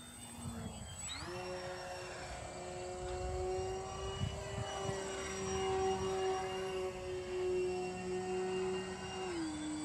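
An FMS Ranger 1220mm RC model airplane with an electric motor flies overhead with a steady whine. The pitch jumps up early, holds through a long pass, then drops near the end as the throttle is pulled back.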